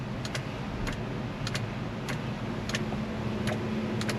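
A car's turn signal relay clicks steadily in a regular rhythm of paired ticks, faint and close against a steady background hum, with no talking.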